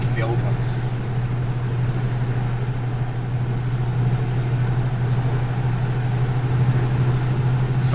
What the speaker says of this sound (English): most of the noise in these cars comes from wind noise